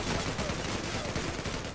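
Gunfire in the fast-paced shooter game Zula: a dense, continuous burst of rapid shots and impacts, loud and unbroken throughout.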